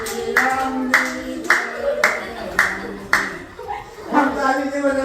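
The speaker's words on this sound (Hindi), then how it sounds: "क्लासरूम में ही तालियां बजाकर राम भजन शुरू कर दिया" A man claps his hands in a classroom while starting a Ram bhajan, sharp single claps landing roughly every half second in a loose rhythm, mixed with voices and sung or spoken sound.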